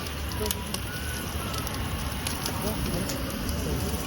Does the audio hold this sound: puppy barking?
no